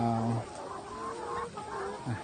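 Laying hens cluck and murmur nearby in short, throaty calls over a steady farmyard background, with no one speaking.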